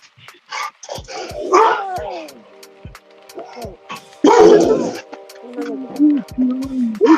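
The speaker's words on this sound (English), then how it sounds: "Whose dog is that?" A dog barks loudly and repeatedly in sharp bursts with some whimpering in between, close by, while people talk over and around the barks.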